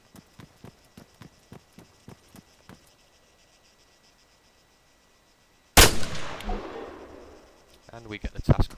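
Arma 3 gunshot killing a character named Eric, one loud sharp crack with a trailing decay, preceded by a run of soft rhythmic footsteps and a quiet pause, with a short burst of clatter at the end.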